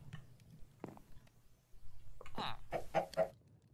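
A Minecraft chicken clucks a few times in short, fairly faint bursts, with soft background noise between the calls.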